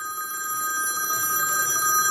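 Telephone bell ringing in a steady, continuous trill with bright tonal bands, loud and close, heard alone without voices.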